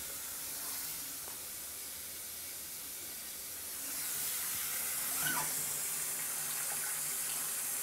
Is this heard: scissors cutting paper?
no